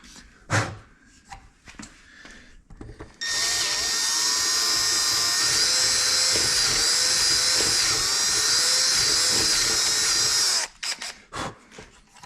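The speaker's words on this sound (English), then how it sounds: "the tap is a little bit bigger than the drill bit, so I'm just kind of widening it out some." A power drill whines steadily for several seconds, widening a hole in a metal manifold, framed by a few clicks and handling knocks before and after.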